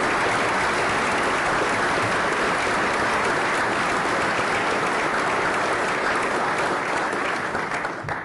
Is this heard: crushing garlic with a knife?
no